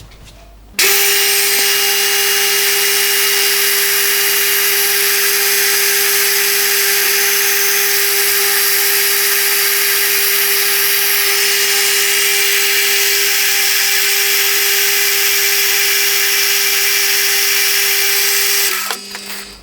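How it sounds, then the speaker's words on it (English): A power drill bores a hole in a piston part for an adjustable-crank hot air engine, running loud and steady with a constant whine for about eighteen seconds before stopping. "I'll set the next part up and we'll drill a hole in that."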